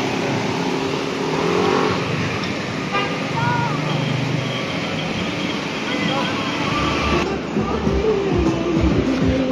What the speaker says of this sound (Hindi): रात के 2 बजने वाले हैं और पूरी ट्रैफिक जैम हो गई है